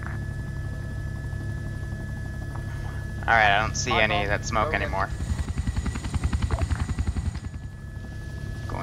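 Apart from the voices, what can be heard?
enemy helicopter flying, from a video game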